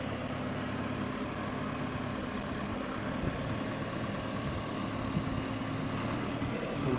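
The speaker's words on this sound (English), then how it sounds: "They're going to get some cassava on the tractor." A tractor engine idles steadily on a rural farm while cassava is loaded, a low, even rumble with a mild rhythmic throb, heard alone at moderate distance.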